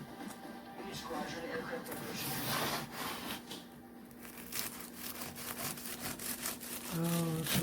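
A knife saws diagonally through a flaky baked St Vincent raisin roll with repeated rough rasping strokes and crackling flakes, close and fairly quiet, while someone talks over the cutting.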